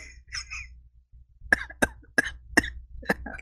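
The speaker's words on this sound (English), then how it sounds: "I can't stop coughing" A run of sharp, close coughs, about six in quick succession after a brief breathy pause, with no speech.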